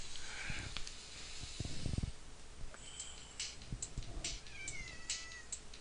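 A cat gives several short meows in quick succession, fairly close, with some low rumbling and shuffling noises before them.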